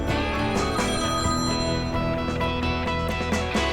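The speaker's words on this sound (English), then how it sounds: "Let me answer the phone." A telephone rings with a repeated electronic ring that carries on through the whole stretch, loud and close, with no one talking over it.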